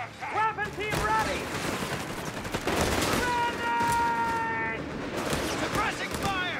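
Suppressing gunfire in Company of Heroes 3, with Wehrmacht Jäger Light Infantry and a weapon team in a 3vs3 match: dense, rapid bursts of automatic fire and shots crackle continuously, mixed with battlefield explosions and voiced unit callouts over the din.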